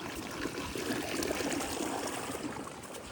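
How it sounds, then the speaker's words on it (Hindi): Water runs steadily across a rain-flooded farm field in a Chhattisgarh village, with a constant rushing, trickling wash and no voices. "और ये आपका एक पानी का बहाव पूरा भर रखा है।"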